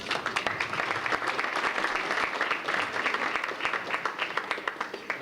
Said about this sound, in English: let us give applause